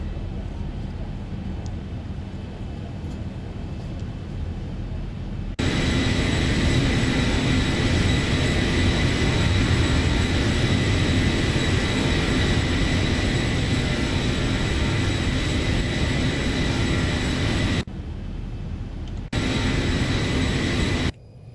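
Steady, loud roar of jet engines inside the cabin of a Ryanair Boeing 737-800 climbing out of Charles de Gaulle, rising abruptly from a quieter hum and holding constant, with a brief dip near the end.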